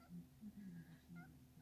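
A tomcat meows several times in short, close, quiet calls with small pauses between them, and no one speaks.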